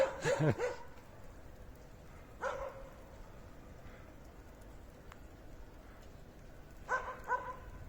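A few dog barks in short bursts outside Bishkek, Kyrgyzstan, one cluster at the start and others a few seconds apart, heard somewhat distant over steady outdoor background noise.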